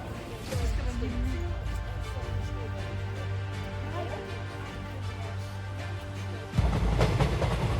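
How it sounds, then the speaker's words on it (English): Regional local train running toward Hamburg, a continuous rumbling ride noise with a low steady drone and faint rail clatter, growing louder near the end. "Next connection to Hamburg Central Station,"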